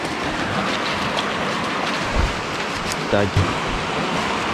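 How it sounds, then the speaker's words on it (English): Steady broadband rush of a creek or small river flowing near a waterfall in the woods, continuous and fairly loud, with a brief spoken word and a couple of low thumps partway through. "There's the river. Creek thing."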